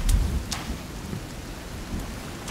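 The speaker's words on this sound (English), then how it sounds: "It is raining." Steady rain and low rumbling thunder in the survival video game Sons of the Forest, a continuous wash of rainfall with a couple of sharp crackles near the start.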